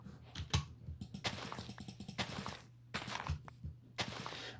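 Hard, fast typing on a computer keyboard while playing Minecraft hardcore, with dense clustered key clicks in bursts separated by short pauses, close and fairly quiet.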